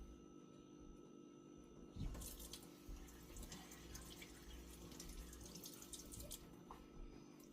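Tap water runs steadily into a sink while hands are rinsed during salad preparation, a continuous splashing hiss with a brief louder burst of spatter near the start.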